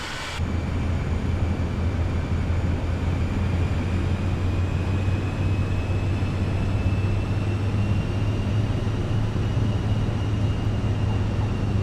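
Aircraft rolling down the runway in Microsoft Flight Simulator 2024, arriving at Cairns, Australia: a steady, loud engine roar with a low hum and a faint high whine that stays constant throughout, with no talking.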